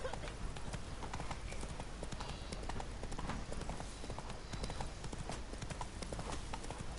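Horse hooves clip-clop steadily as a rider travels in The Witcher 3: Blood and Wine, a regular trotting rhythm close up with game ambience underneath.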